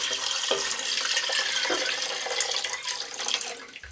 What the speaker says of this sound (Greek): είμαστε έτοιμοι να προσθέσουμε το γάλα, το οποίο εγώ το ρίχνω όλο μαζί